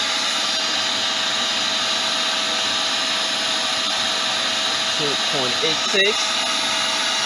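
Vacuum cleaner running off an off-grid 6 kW low-frequency inverter, a steady loud whining drone throughout, with someone speaking briefly over it.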